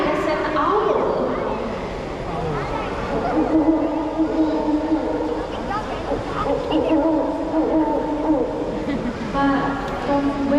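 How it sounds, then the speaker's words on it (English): An owl hoots during a night-time creatures show at the Night Safari in Singapore, with repeated hooting tones over a steady, moderately loud background. "That's right, that's an owl."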